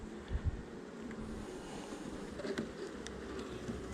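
Honey bees buzz around an open beehive full of honey during a fume-board harvest: a low, steady droning hum close by, with light wind rumble and a few faint handling knocks near the start.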